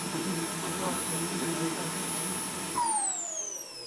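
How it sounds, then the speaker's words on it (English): Mini RC turbine jet engine shutting down: a loud steady high whine and roar holds, then the pitch sweeps downward as the spool winds down and the rumble drops away. "We shut the trim down to shut off, and the turbine automatically shuts down."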